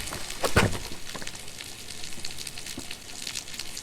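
Bacon and onion omelette simmers in a pan on a Trangia Mini camping stove, a soft steady sizzle and crackle with a few sharp pops near the start, fairly quiet and close.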